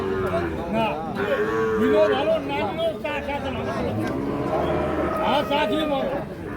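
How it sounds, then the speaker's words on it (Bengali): A Sahiwal bull calf at a busy Bangladeshi cattle market moos a few times, its calls rising over steady crowd chatter and nearby voices talking. "শাহিওয়াল ষাঁড় বাচ্চা"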